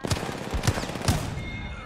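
Three sharp shots, about half a second apart, come from Apex Legends gameplay, each a loud close crack with a brief tail, with faint speech in the background.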